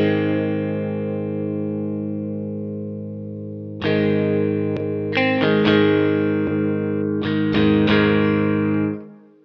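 Electric guitar notes ringing through a Demedash T-60 analog modulator pedal, a long sustained chord followed by several plucked notes with wavering modulated tone and slight distortion, played alone without talk.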